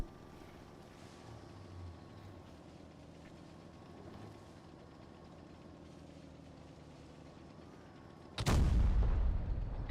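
A single heavy tank cannon shot booms loud and close from a tank video game, breaking a long stretch of low engine rumble and distant battle ambience near the end.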